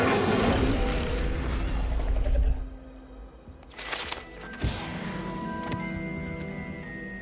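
An Incendio fire spell is cast in Hogwarts Legacy: a loud rushing whoosh fades out, and after a short lull a sharp impact gives way to a sustained fiery roar with bright ringing tones.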